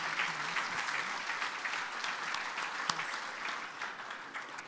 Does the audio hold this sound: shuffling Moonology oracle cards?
no